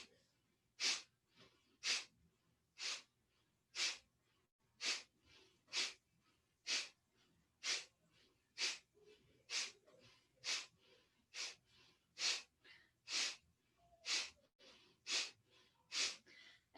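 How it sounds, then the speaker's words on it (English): Sharp nasal exhales repeat in a steady rapid rhythm during pranayama breathing practice, roughly one forceful puff per second, close and clear against a quiet room. "Empty completely on the exhale."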